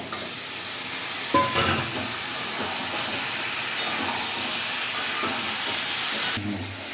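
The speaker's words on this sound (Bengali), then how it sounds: "এই যে মটন আর পেঁয়াজটাকে এইভাবে আপনারা ভালো করে ভেজে নেবেন" Mutton and onion frying in a pan, a steady soft hiss and sizzle with occasional stirring scrapes and clinks, close and moderate in volume.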